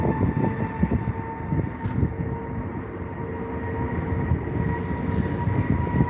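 An Aer Lingus jet departs runway 27R at London Heathrow, a steady broad engine roar holding throughout at moderate distance with no talk.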